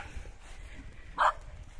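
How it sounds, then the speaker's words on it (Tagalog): A single short dog bark rings out at mid-distance on a rural farm lot home, briefly rising above a low, steady outdoor background. "Ayan, cute ng aso, tataba."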